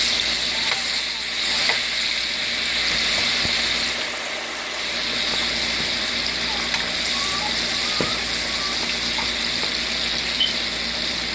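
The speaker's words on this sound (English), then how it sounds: "Start frying the plantain." Steady close sizzle and hiss of plantain slices frying in hot oil, an even bubbling wash with a few faint clicks and pops.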